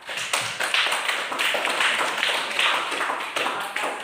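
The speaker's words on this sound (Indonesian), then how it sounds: "Kita beri aplaus dulu untuk kelompok 3." A classroom of students applauding a discussion group after its report, a steady patter of many hands clapping for about four seconds, fairly close and with no talk.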